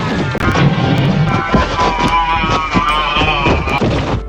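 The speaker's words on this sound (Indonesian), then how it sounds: "Pasukan kompeni terus menembakinya tanpa ampun" Gunfire from colonial company troops shooting relentlessly, a loud dense barrage of rapid cracks and booms layered over shouting voices and a busy battle din throughout.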